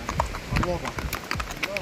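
Horse hooves clip-clop along a park path in Borjomi, Georgia, where horses are ridden or led for hire; the steady, close hoofbeats run beneath continuous voices talking throughout.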